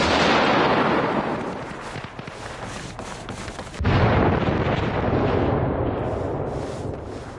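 Heavy bomb explosions, one big roaring blast fading out and a second close, loud blast about midway that rumbles and decays, no talk.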